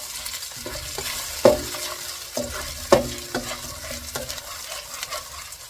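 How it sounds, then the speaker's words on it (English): Chicken stir-frying in a pan on the stove: a steady close sizzle broken by scraping, clattering stirs that come every second or so, with no one speaking. "And you're going to stir this around."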